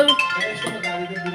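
Bright electronic ringtone melody with tonal chimes, close by, playing briefly.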